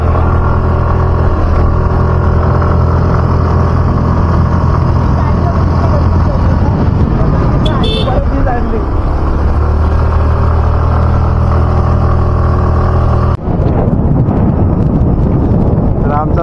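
A tempo rolls along a road in Raigad's Mangaon area of Konkan, its engine giving a steady, loud rumble with wind buffeting throughout and a brief dip near the end.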